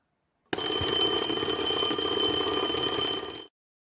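A timer alarm signalling time is up at a poetry slam rings as a continuous bright, buzzing electronic tone for about three seconds, loud and close, then stops sharply.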